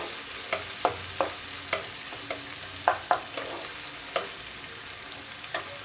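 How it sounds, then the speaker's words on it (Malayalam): Stuffed okra with onion masala sautés in a pan, a steady sizzle broken by regular spatula scrapes and taps against the metal, close and clear with no talking. "ഇത് നന്നായിട്ടൊന്ന് വഴന്ന് വരണം"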